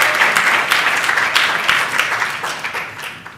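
Audience applause at a high-level global health summit, a dense steady wash of many hands clapping that carries loudly through the whole stretch with slight swells, no voices over it.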